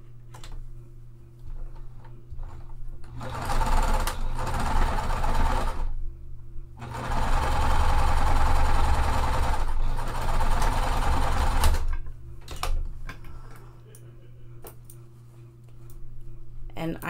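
A sewing machine stitches quilt blocks together for a puff quilt pillow, running in long steady whirring bursts with pauses and small mechanical ticks between them, heard up close.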